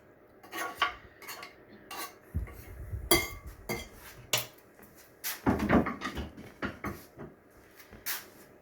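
Grated onion for burgers is scraped into a kitchen mixing bowl, with irregular clinks, knocks and clatters of the bowl and utensils, some sharp and loud, separated by brief pauses.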